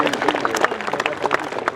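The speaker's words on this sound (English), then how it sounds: "Give him a round of applause" Audience applause at a Tankfest tank display, a steady dense patter of clapping from an outdoor crowd throughout, with no break.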